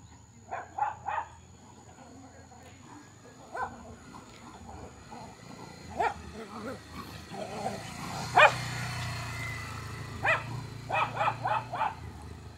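Several dogs bark in short bursts at a distance, scattered across the clip over a low engine rumble, with a few sharper yips near the end.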